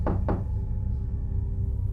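Two quick, firm knocks land on a cabin's front door, close and solid, then fall away into a steady low hum.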